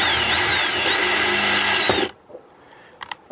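A power drill runs steadily into the fiberglass wall of a coach for about two seconds with a loud, close whine. It then stops, and a few faint clicks and handling noises follow.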